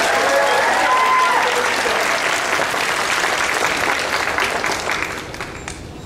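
Audience applause at a convention costume contest, a loud, dense wash of clapping from a large crowd that holds steady and tapers slightly near the end.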